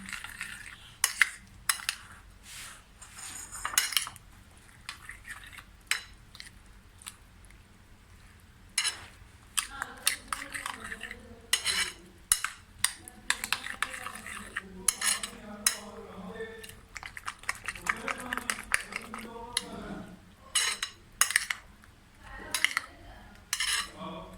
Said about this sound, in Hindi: ये मैंने इसको अच्छी तरह फेंट के मिक्स कर लिया।